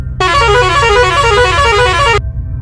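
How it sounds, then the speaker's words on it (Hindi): A loud, blaring horn from a speeding bus sounds in one sustained two-second blast, close by, over a low engine rumble that continues after it stops. "सांगे सांगे गोटे बड़ गाड़ी रो हॉर्न शब्द आसिला"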